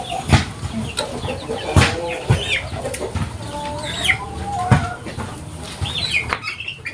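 Young kampung chickens cluck close by while being handled for weighing, with sharp wing flaps and flurries breaking through the steady clucking.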